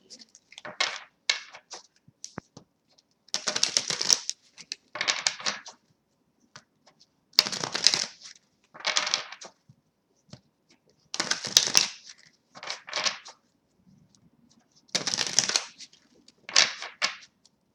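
Crisp bursts of tarot cards being shuffled, several riffling passes separated by short pauses, close and fairly quiet.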